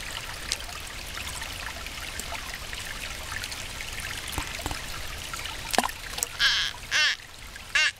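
A shallow stream trickles and babbles steadily up close, with a few light splashes of rocks tossed into the water near the end.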